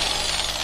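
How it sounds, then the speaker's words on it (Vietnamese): A Bosch 700W hammer drill runs in concrete drilling mode, giving off a loud, dense, continuous hammering buzz with a steady pulse throughout the short burst. "Đây chức năng khoan thường, chức năng khoan bê tông nè anh em."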